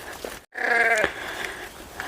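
A single sheep bleats loudly and close, a wavering cry lasting about a second over faint outdoor background.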